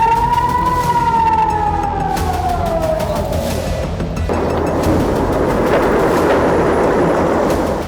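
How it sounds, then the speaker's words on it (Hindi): A loud air raid siren wails over Tel Aviv during missile interceptions, its tone gliding slowly downward before giving way to a dense roaring rumble that fills the rest of the stretch. "इसी दौरान आयरन डोम एक्टिव हो गया, सायरन बजने लगी।"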